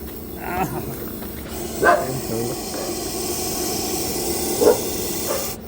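A large Russell's viper hisses steadily during a night rescue while a dog barks a few times close by.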